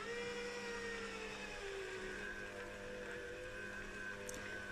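A steady, loud motor whir runs continuously, an electric juicer extracting soy milk from overnight-soaked soybeans, churning at constant speed with a high mechanical whine and no pauses.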